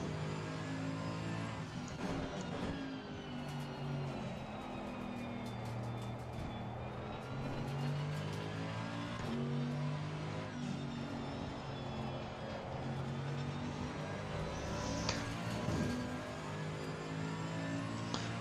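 Racing car engines drone and rev continuously in the sim racing game Assetto Corsa Competizione at Spa-Francorchamps, with a Ferrari close behind; the engine notes are steady and loud throughout, rising and falling slightly.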